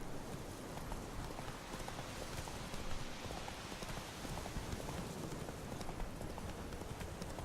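Roach the horse gallops in The Witcher 3, hooves clip-clopping in a fast, steady rhythm that fills the whole stretch at close range without pause.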